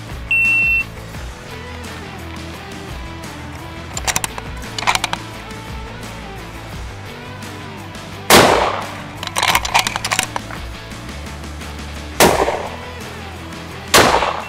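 Hunting rifle shots fired from a bag rested on a tack table, with four sharp, loud reports spaced a few seconds apart over a steady low hum.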